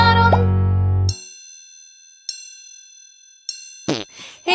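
Clock chimes striking in a children's nursery song, three bright ringing dings each decaying slowly, preceded by a low sung note and followed by a voice.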